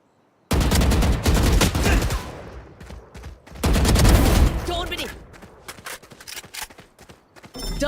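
Video game gunfire in a tactical shooter match, loud bursts of rapid shots in two main volleys with quieter trailing sounds, mixed with game effects.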